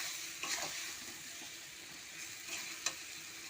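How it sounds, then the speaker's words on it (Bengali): Ground spices sizzle steadily while being stirred in a pan for a Bengali tangra fish curry, a continuous hiss with a few louder scraping strokes of the spoon. "এই সব মশলা একসঙ্গে কষে নেব"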